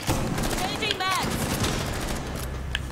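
Dense gunfire rattles continuously in a shooter video game, loud and close, while a voice speaks briefly partway through.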